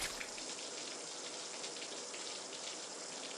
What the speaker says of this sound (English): I turned on the cold water faucet, full blast.